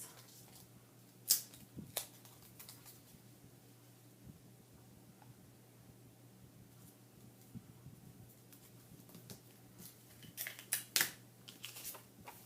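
Scissors snipping through paper down the middle of a page, a few crisp isolated cuts early on and a quick cluster of snips near the end, close and fairly quiet with no talking.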